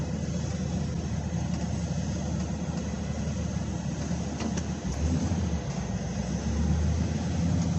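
Steady low rumble of a 2006 GMC Sierra 2500 with the 6.0 V8 engine running at idle, close by and continuous, with a slight rise in low-end throb near the end; no one talks.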